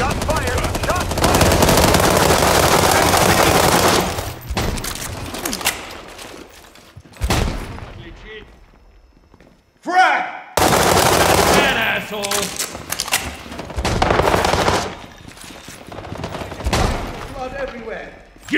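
Gunfire in the video game WW3 during a team deathmatch in Shibuya: loud, sustained automatic bursts close by, broken by short pauses and a few thuds, with game voices calling out over the shooting.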